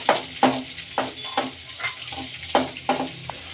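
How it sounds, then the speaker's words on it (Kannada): Green chillies fry in a pan for a green garlic and fresh pigeon pea palya, a close sizzle broken by regular sharp taps and scrapes of stirring. "ಫ್ರೈ ಮಾಡ್ಕೊಳ್ಳೋಣ. ಹಸಿಮೆಣ್ಸಿನ್ಕಾಯಿ ಸೇರಿಸ್ಕೊಳ್ಳೋಣ."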